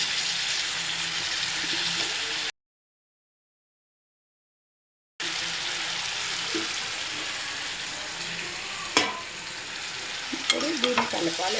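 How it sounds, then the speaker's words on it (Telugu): Brinjal pieces sizzle steadily in a hot pan while being stirred, with a sudden silent gap partway through and a few sharp spoon scrapes and clicks toward the end. "ఇప్పుడు దీన్ని కలపాలి, ఎందుకంటే ముక్క సాల్ట్ అనేది పట్టకపోతే చేదు వచ్చేస్తుంది"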